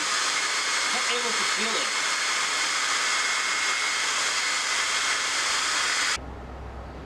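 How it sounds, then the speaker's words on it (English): An electric ducted fan blows air into a glove, giving a loud, steady rushing whine that cuts off abruptly near the end; a voice speaks briefly under it. "I tried to fill the glove using the EDF."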